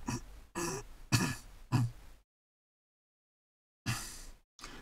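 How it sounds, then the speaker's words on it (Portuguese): A run of rough throat-clearing coughs, four quick bursts close together, then a pause and two more harsh clears, loud and near. "Essa minha tosse é complicada"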